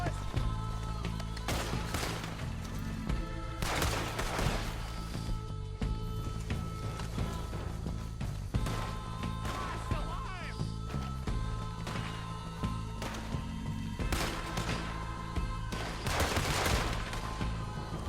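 Gunfire in Red Dead Redemption 2, including a rolling block rifle, sounds as repeated sharp blasts in bursts over a dense battle backdrop of game music and noise, with a voice speaking at times.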